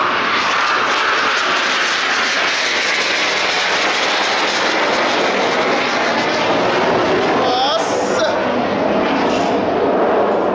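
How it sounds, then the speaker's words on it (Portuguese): A jet aircraft passes overhead, a loud broadband roar that fills the whole stretch and swells slightly near the end, while a person gives a short startled exclamation. "Passando jato, velho."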